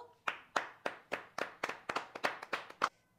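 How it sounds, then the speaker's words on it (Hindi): About ten sharp hand claps in a steady, slightly uneven rhythm, close and fairly loud, with no talking. "ताली बजा लो"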